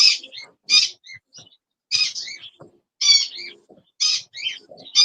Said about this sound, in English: Yeah, that's my bird.